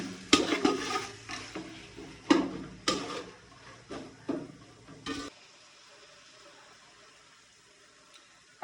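Fish head curry is sautéed and stirred in a pan, with a run of close, uneven spoon scrapes over a light sizzle that stop abruptly partway, leaving near silence.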